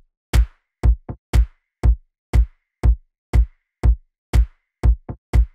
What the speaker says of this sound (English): It's a very organic, very huge clap together with this kick and bass.